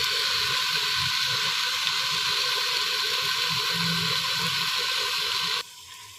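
Petha halwa cooking in desi ghee, a steady loud sizzle and hiss from the pan with a faint bubbling underneath, continuous and close, ending abruptly as the sound drops.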